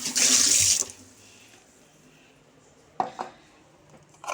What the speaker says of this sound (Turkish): Yaptığım gibi yıkarım.